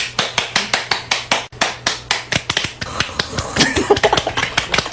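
A small group of people clap together in quick, steady bursts, close by and loud, the rhythm turning faster and more ragged toward the end.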